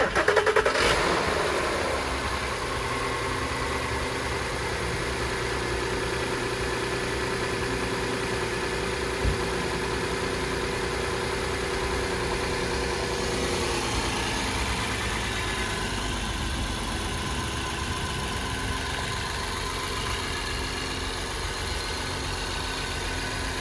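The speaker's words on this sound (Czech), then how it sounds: "Pojďme si poslechnout studený start" Cold start of a Škoda Superb 3.6 191 kW engine: an initial burst as it fires up, then a steady, even idle that holds close and alone for the rest of the clip.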